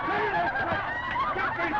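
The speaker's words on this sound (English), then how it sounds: "Get these chickens out of here!" Chickens squawk and honk loudly and continuously on a 1932 film set, the harsh cackling calls overlapping in a dense, close flurry with little pause.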